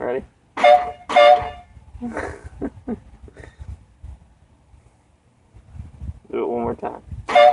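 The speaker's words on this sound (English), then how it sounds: "So there's the air horns." Harbor Freight air horns mounted on a vehicle give two short, loud blasts close by, then another at the end, with people talking in between.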